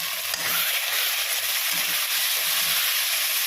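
Salted tomatoes sauté in a pan for prawn biryani, giving a close, continuous hiss and sizzle with soft stirring movements underneath.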